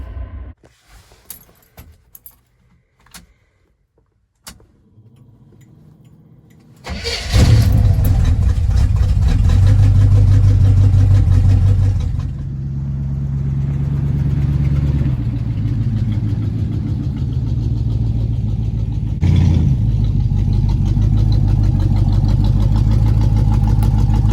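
A 1974 square body truck, just fitted with a new rotor, cranks and fires after a few soft key jangles. Its engine then runs loud and steady at idle, with a brief rev partway through and no talking.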